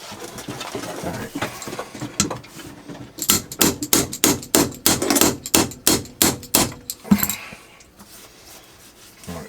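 A steady series of sharp hammer taps, about a dozen evenly spaced strikes, loud and close, fitting a Burris FastFire 2 sight onto a S&W M&P Gen 1 pistol, followed by quieter rustling.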